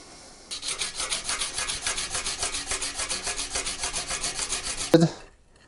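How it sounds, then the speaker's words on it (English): A Damascus steel knife blade is hand sanded in quick, rhythmic back-and-forth rasping strokes, steady and close for several seconds before a brief clunk and stop. "Next thing we're gonna do is actually hand sand them."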